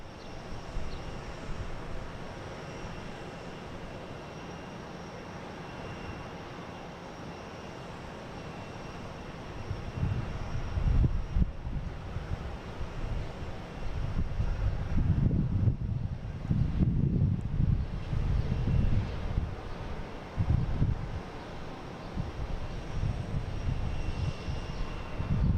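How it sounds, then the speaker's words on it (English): A JetBlue Airbus A220 jet landing on runway 27 at Boston Logan International Airport, a steady distant engine roar that swells into a louder rumbling pass with wind buffeting the microphone, then stays strong to the end. "There's JetBlue coming in from Fort Lauderdale, landing on 27 and A220."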